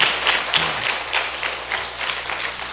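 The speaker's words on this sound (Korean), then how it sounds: "한 번 더 힘찬 박수로 한 번만 더 축복하겠습니다" Congregational applause at a church service following a blessing prayer, a steady wash of clapping from a crowd with rhythmic pulses, moderately loud and continuous.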